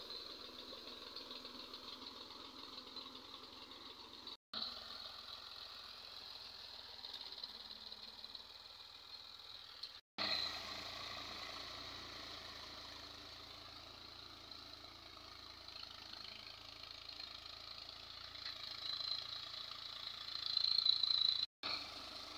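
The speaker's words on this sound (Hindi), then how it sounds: "ये देखें, ट्रैक्टर भी आ गया है।" Tractor engine idling in a wheat field, a steady low running hum with faint rattle, recorded from a distance with a few abrupt cuts and a slight swell near the end.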